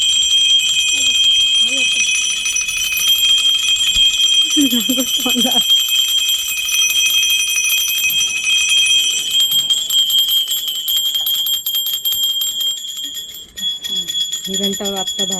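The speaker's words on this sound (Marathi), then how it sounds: "घंटा वाजवा जोरात" A ritual hand bell rings rapidly and continuously with a bright metallic jangle, loud and close, while several people talk over it during a Nag Panchami puja in Konkan.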